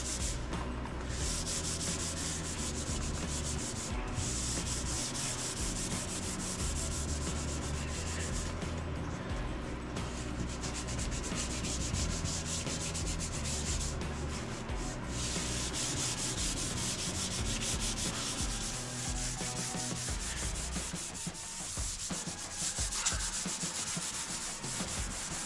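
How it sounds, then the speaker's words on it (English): Hand sanding of body filler on a smashed car quarter panel with 320-grit sandpaper, a steady close scratchy rubbing that runs continuously and alone throughout. "I'm going to just kind of go over these spots. Kind of try to sand some more of the scratches out."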